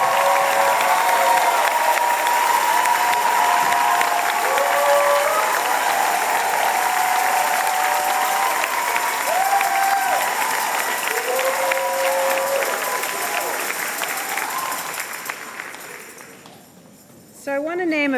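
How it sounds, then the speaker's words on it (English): Long, sustained applause from a large audience at a university arts convocation, dense clapping with light cheering that fades out near the end. "please stand so we can give you a proper round of applause"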